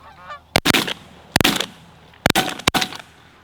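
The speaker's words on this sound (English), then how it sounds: "Very good shooting, guys" Gunfire during a Canadian duck and goose hunt: four sharp, loud shotgun blasts come in two spaced pairs, following faint honking of geese at the start.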